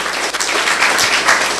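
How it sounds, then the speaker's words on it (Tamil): Audience applause at a school Independence Day debate event, a dense, steady wash of clapping from a crowd sustained through the whole moment with no talk over it. "கைத்தட்டுங்களை பார்ப்போம்"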